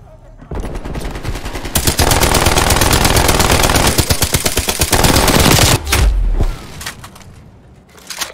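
An enemy turret in Call of Duty: Black Ops Cold War rattles out loud, sustained machine-gun fire in dense rapid bursts lasting several seconds, followed by thuds and a quieter tail.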